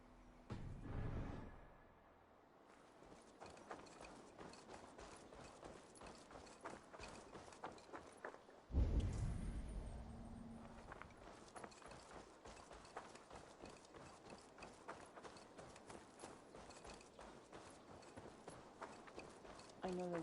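Horse hooves clip-clopping in the video game Assassin's Creed Valhalla, a steady rhythmic patter running through the scene with game ambience and a brief louder burst partway through.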